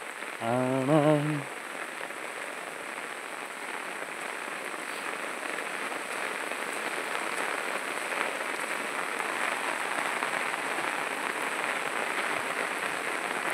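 Steady heavy rainfall pours down outdoors, a dense continuous hiss that runs the whole length after a brief burst of singing at the start.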